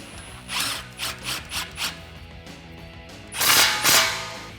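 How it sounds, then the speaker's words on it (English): A ratchet tightens the exhaust clamp on a 2011-2014 Mustang GT axle-back, four quick mechanical bursts in a steady rhythm, then two louder, longer bursts close by. "so now we're going to tighten our clamp."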